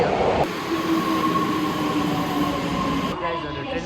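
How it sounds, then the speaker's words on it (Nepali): A metro train pulls in, a loud steady rumble of wheels and carriages with a tonal hum that cuts off near the end, heard close from the platform. "ट्रेन नै आयो ठ्याक्कै"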